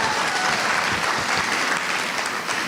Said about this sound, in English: Let's give another big round of applause to all the amazing competing teams and the exhibition asks today.